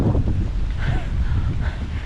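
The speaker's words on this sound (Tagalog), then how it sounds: "Kasi ang lakas ng hangin, sobra dito sa Lian, Batangas." Strong wind buffets the microphone at Pontanilla Beach in Lian, Batangas, during a car camping trip, making a loud, steady low rumble with gusting swells throughout and no voices.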